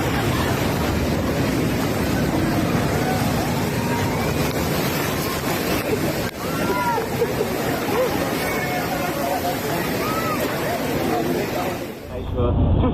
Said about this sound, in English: huge waves crashed into the streets of western France